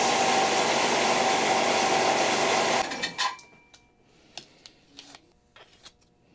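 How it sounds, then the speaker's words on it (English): A sumac wood guitar neck shim is shaved down with a power tool for a Squier Classic Vibe '70s Jaguar setup. A steady grinding buzz runs for about three seconds and then stops, followed by a few soft clicks and taps. "The Sumac shim is actually kind of thick on this side, so I'm going to shave it down just a little bit more."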